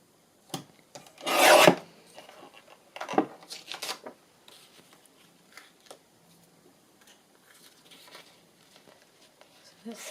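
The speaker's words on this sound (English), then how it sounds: "I'm going to try take a bit off with the trimmer." Paper trimmer slicing through paper for a Christmas journal: a loud rasping cut of about a second near the start, then scattered lighter scrapes, taps and handling rustles, nearby and without speech.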